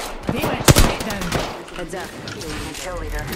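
Gunfire in a shooter video game: a few sharp close shots followed by scattered quieter firing, with a player talking over it.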